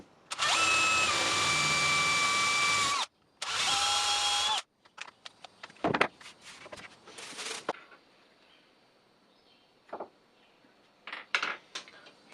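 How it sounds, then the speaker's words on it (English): Two loud bursts of a power drill whirring as it drills mounting holes in wood, then scattered clicks, clatters and knocks of tools being handled, with a brief drill buzz near the end. "so first I need to drill some holes for the mount."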